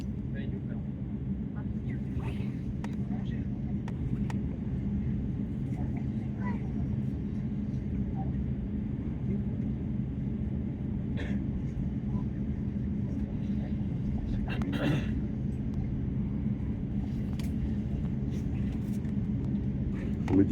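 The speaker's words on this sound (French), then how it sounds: "Je vais vous laisser profiter pleinement de ce décollage" Steady low cabin rumble inside an Air France Airbus A350-900 taking off from Los Angeles, a constant dense engine roar with occasional faint clicks and rattles, and voices talking under it.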